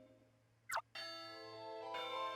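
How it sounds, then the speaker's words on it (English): A school bell rings in the Pokemon Ranger: Shadows of Almia game, a bright sustained electronic chime that starts after a short sharp blip and holds steady, stepping up in tone near the end; clean and close with no talk. "There goes the bell."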